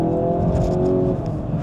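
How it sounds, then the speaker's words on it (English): A Hyundai Ioniq 5 N driving past on a track, a loud steady whirring drone with a faint rising tone, close by and continuous, no talk over it. "we're about to have an Ioniq 5N go past us"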